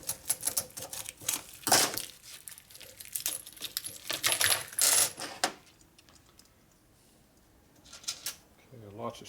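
Many small screws from a 1965 Harley-Davidson Panhead 74ci FLH engine rebuild drop and rattle in bursts of metallic clinks and jingles, loud and close, then trail off into quieter shuffling.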